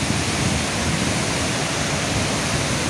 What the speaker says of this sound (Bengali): অসম্ভব জোরে জল পড়ছে, অসম্ভব জোরে।